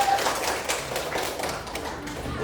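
Children in a classroom clapping their hands together, a scattered, fairly close patter of many small claps running steadily for a couple of seconds.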